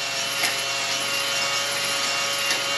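A drill-driven cylinder hone on a Polaris Trail Boss 250 cylinder grinds with a steady abrasive scraping, continuous, close and loud, with a faint whirring drill motor beneath and slight rhythmic pulses as the tool moves back and forth.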